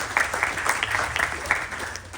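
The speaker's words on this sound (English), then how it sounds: "Please give a round of applause to Pandit" Applause for a pandit at a Ganesh Chaturthi Utsav celebration, a steady wash of clapping from a gathered audience at moderate level, continuous throughout without talk.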